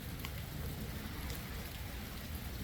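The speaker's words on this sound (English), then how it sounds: "it is raining on our heads" Rain falls steadily at a cemetery in Bennington, Vermont, in a dense, even hiss with scattered close drops and faint low rumbling underneath. No one speaks.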